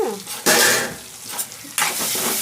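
Brinjal curry (Nellore-style vankaya mamidikaya mudda kura) stirred in a pan, with bursts of loud scraping and sizzling under a steady fry, each stroke rising sharply then settling back; no voices.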